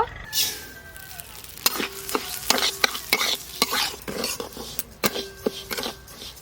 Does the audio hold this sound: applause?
no